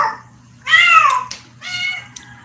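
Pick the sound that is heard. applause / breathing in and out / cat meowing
cat meowing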